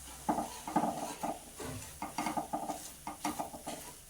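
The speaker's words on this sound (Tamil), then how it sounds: "நெய்யிலே வறுக்கிறோம்." Semolina roasting in ghee with almonds and cardamom for rava halwa, a spoon scraping and stirring the pan in quick repeated strokes over a soft sizzle, close and clear.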